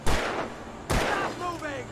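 Gunfire from the video game Alan Wake Remastered: two sharp, loud shots about a second apart, each followed by a decaying tail, with game sounds ringing afterward.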